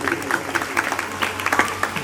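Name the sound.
audience clapping for Dhyanu Bhagat tableau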